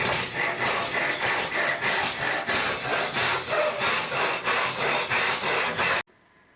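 A saw cuts through clamped wooden strips of a wood and glass fiber composite mast for a catamaran, trimming them to length. The strokes are steady, loud and rhythmic and close by, then stop abruptly near the end.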